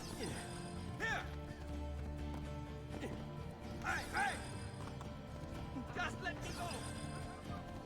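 Hooves clatter in rhythmic bursts as a horse gallops through crowded streets in the video game Assassin's Creed 2, mixed with game music and ambient crowd noise, while a player talks over it.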